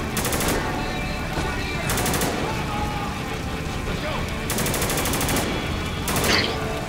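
Gunfire in the video game Spec Ops The Line comes in several loud automatic bursts over a constant noisy battle background, with talking mixed in.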